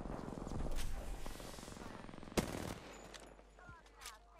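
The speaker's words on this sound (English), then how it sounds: "you're getting shot from every angle" Rapid automatic gunfire from an Apex Legends ranked match, a dense sustained burst of shots in the first half followed by a sharp loud crack, then scattered fainter shots and game effects.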